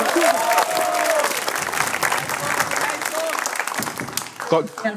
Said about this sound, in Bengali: জোরে একটা তালি দাও for Chirkut.